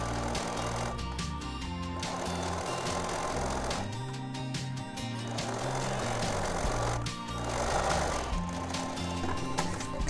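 A sewing machine runs in steady bursts, stitching over cording inside a skinny fabric tube, its rapid mechanical chatter pausing briefly between runs at a moderate, close level.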